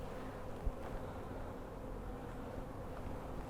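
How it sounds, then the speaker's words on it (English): Honey bees hum inside their hive in a soft, steady, low drone of many wings, faint and continuous, with a small knock early on and no voices. "You can get bees to move out of the way. They're quite gentle in their hive."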